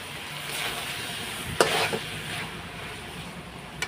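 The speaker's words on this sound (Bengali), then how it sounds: "এখন আমি সব মটরগুলো ঢেলে দেবো" Peas are poured into a frying pan of spiced mixture for chicken ghugni and stirred, a steady close sizzle with a sudden clattering burst midway, then softer stirring; no one talks.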